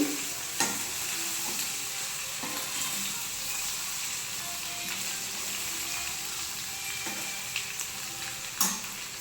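Egg, garlic and chilli curry being stirred and fried in a pan, with a steady broadband sizzle broken by several sharp spoon scrapes and knocks, close and moderately loud, with no voices.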